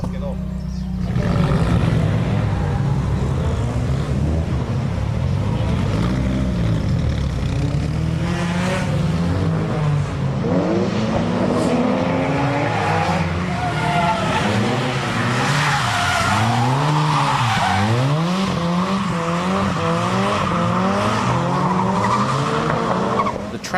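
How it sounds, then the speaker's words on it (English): About seventy drift cars slide close together on a rain-wet track, engines revving and roaring hard while tires squeal and skid in long, continuous sweeps, loud and near throughout. "Even on a wet track, some cars drift very close together."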